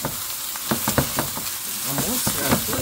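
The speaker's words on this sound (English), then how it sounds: "Just saute everything" Broccoli and other vegetables are sautéed in a pan, giving a loud, close, steady sizzle with a few quick stirring scrapes and tosses over a short stretch, no speech.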